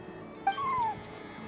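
A cat in a video game gives one short, rising-then-falling meow, soft and brief over a quiet background.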